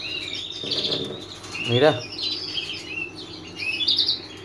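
A pet bird kept for red-factor colouring chirps in short bright bursts at several points, close to the listener, while someone speaks Spanish over part of the sound.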